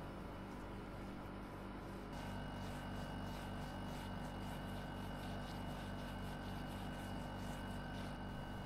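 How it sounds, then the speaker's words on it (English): A dehumidifier running in an old cellar, a faint, constant motor hum with a soft airy whir that stays unchanged throughout, with no one speaking. "sorry about the dehumidifier noise throughout the video."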